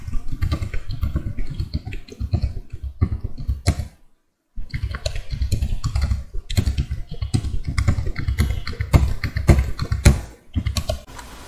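Rapid typing on a computer keyboard while entering calendar dates into a Word planner, with dense irregular key clicks that pause briefly midway and then continue, close and clear with no talking.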